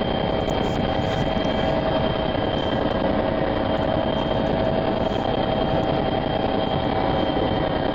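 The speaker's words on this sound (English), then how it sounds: "pretty noisy helicopter." A helicopter landing at a remote campsite, heard from on board as a loud, constant rotor and engine roar with a fast throbbing beat and a steady whine filling the whole stretch, with no other sounds above it.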